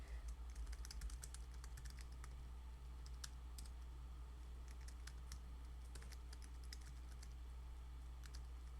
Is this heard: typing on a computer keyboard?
yes